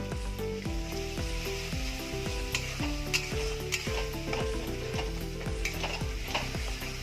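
Spiced masala paste with turmeric and salt frying in oil, a steady close sizzle broken by a regular series of scraping stirs against the pan, about one every half second, with no talk.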